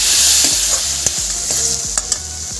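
Tomato masala with salt sizzles steadily in a pan for a paneer dish while a spoon scrapes and stirs through it in a few sharp knocks, close and loud, with no talking.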